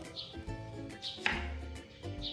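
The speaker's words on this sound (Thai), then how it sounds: "เราจะต้อง หั่นแตงกวาให้เป็นชิ้นบางๆก่อน" A knife slices a Thai cucumber into thin pieces, producing a few quiet, scattered cuts against a board with soft background sounds between them.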